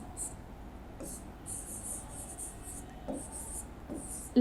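Pen or pencil writing by hand on paper for a class 7 maths lesson, in short scratchy bursts separated by pauses, close and fairly soft.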